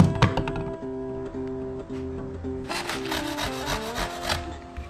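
Foam being shaped by hand for a DIY skateboard deck core, steady rubbing and rasping strokes near the microphone, with a brief burst of harsher, brighter scraping toward the end and faint background music.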